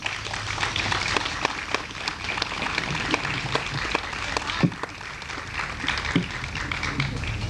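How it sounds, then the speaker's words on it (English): An outdoor park audience applauds at an evening community event, a steady wash of clapping running through the whole stretch at moderate level. "Please give them another round of applause."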